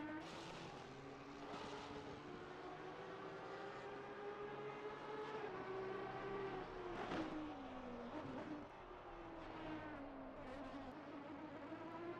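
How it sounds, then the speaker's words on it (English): A V12 Aston Martin race car in a racing video game at Bathurst, its engine a steady droning whine that rises and falls with shifts and revs and continues without pause. "I will say this Aston does sound very nice."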